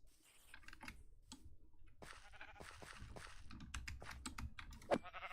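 A sheep bleats briefly in Minecraft, a short nasal cry over quiet rapid clicking and tapping sounds.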